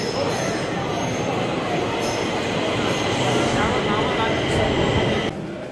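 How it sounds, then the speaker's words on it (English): A Stockholm metro train pulls into a station, its steady loud rumble and wheel-on-rail noise filling the platform, with faint squealing on top, before the sound drops away near the end. "The train is arriving."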